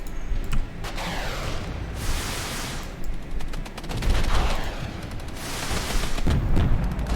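Rifle gunfire from a Regiments real-time tactics battle, with a steady crackle of overlapping shots and heavier bursts of volleys and booms over about seven seconds, fairly loud and dense.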